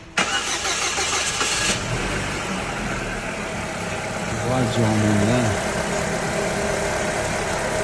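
A car engine cranks and catches on a cold start, then settles into a rough, steady idle close by, with someone speaking briefly over it.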